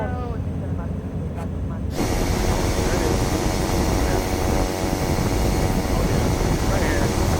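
An airplane taking off in Puerto Rico: after a short quieter stretch, a loud, broad engine roar and rushing hiss surge in and hold steady, close and powerful, with voices faintly underneath early on.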